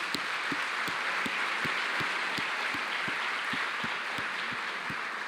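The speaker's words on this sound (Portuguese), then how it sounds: "eu quero aplaudir a Deus pela vida deles" A church congregation applauds during a service with steady, sustained clapping that fills the room. Faint low pulses recur at a regular beat beneath the applause.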